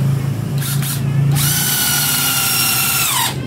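A power drill set to plain drilling mode without hammer action gives a couple of short trigger bursts, then a loud, close, sustained whir that holds steady for about two seconds before winding down.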